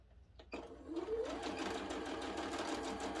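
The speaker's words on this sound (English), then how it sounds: "I always backstitch at the beginning and at the end, or at least I try to remember" A sewing machine runs steadily while backstitching a quilt block seam, starting after a brief click and then holding a continuous, close, even whirring hum with no talk.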